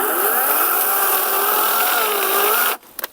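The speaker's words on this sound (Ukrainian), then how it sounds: "П'ятий дрючок і на меншій швидкості пила, бо вже на більше йде в захист." A Start Pro SCS/B-21/16 cordless saw cuts steadily through a pine log at reduced speed, giving a loud, continuous motor whine with a gritty cutting rasp that stops abruptly near the end, followed by a couple of small knocks.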